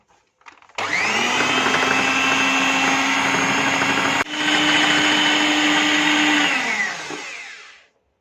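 An electric hand beater whirs steadily through cupcake batter for about six seconds, loud and close, with one brief break midway before the motor winds down.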